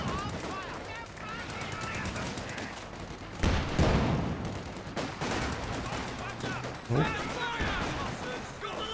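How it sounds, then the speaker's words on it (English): Gunfire in a Company of Heroes 2 2v2 battle, a steady crackle of small-arms and machine-gun shots throughout with a couple of louder impacts, heard under continuous voice commentary. "Sorry, but we're being bloody shot at."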